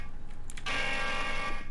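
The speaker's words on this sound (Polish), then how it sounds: "Alarm." A continuous electronic alarm blares in the GTA RP game after an unstable machine short-circuits. It is loud and steady, starting suddenly and sustained for over a second.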